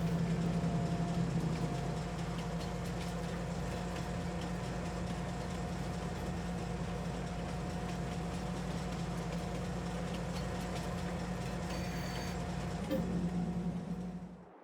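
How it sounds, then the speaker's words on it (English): A freight train loaded with soybeans pulling away in Farming Simulator 22, a steady low engine drone and rumble holding evenly throughout, with a faint voice talking briefly underneath. "The train will now drive to the Goldcrest Valley and will return on the other side of the map."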